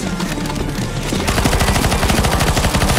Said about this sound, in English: you need to shoot a boss as well